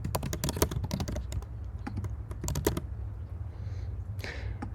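Rapid clicking keystrokes on a computer keyboard entering an email and password to log in, a fast irregular burst, a pause, then more taps over a low steady hum, ending with a brief soft swish.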